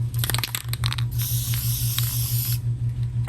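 Short hissing bursts of Bike Protect cleaner are sprayed onto a rag in a bicycle shop during a tune-up, several quick puffs followed by one longer sustained spray, close and fairly soft over a low steady hum.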